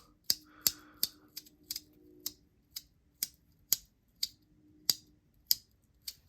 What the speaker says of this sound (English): There, I got it to clack a little.